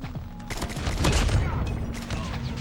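Rapid SKS rifle fire from Call of Duty Mobile bursts in quick overlapping shots with booming game effects, dense and loud throughout, with a voice briefly underneath.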